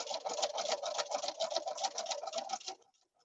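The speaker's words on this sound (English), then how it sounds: "I will go ahead and stitch it a 1/4 inch" A sewing machine stitches a quarter-inch seam on a quilt block, a rapid, even patter of needle strokes heard up close and fairly soft, running steadily for nearly three seconds before stopping.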